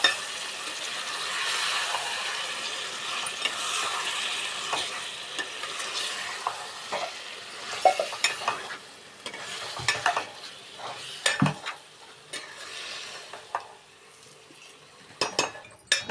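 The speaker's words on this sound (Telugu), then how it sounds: "చికెన్ వేసిన తర్వాత దీన్ని బాగా కలుపుకుందాం." Chicken sizzles in a frying pan while a utensil stirs it, giving scraping clatters and irregular knocks over a steady, moderate frying hiss.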